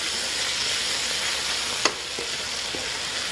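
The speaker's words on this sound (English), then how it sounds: "So you want to brown the onion lightly" Onions browning in a pan give a steady close sizzle throughout, with a couple of brief clicks near the end.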